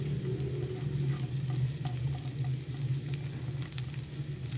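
Chopped onions sizzle and fry in a pan for samosa filling, a steady close hiss with occasional stirring scrapes, continuous and moderately quiet, with no talking.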